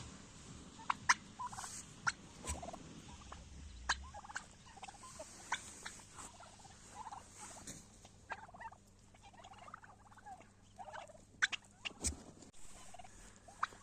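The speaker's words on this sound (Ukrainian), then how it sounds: "ті індики, які не вийшли, кричать на всю горлянку" A flock of turkeys of various breeds gobbles repeatedly in bursts outdoors at pasture in winter, several birds calling over one another at a moderate distance, with scattered sharper calls throughout.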